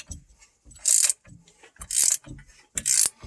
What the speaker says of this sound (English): Just keep on turning, and it'll help with that never seize on the threads.